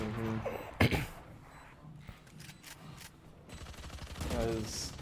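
Operator sniper rifle shots fired through a wall in the video game Valorant: a few sharp, loud cracks spaced apart amid quieter game sounds.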